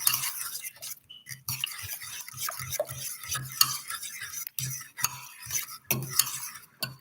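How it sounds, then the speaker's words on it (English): A utensil stirs minced garlic through natural plain yogurt in a bowl, making close, irregular wet scraping and soft clinks in uneven bursts separated by short pauses, with no talking. "then you mix the garlic into the yogurt and stir it up"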